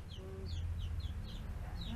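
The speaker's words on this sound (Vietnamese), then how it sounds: "còn được 2 con gà con hả" Chickens and chicks on a farm cluck and peep in a run of short chirps, close and steady, over a low rumbling background.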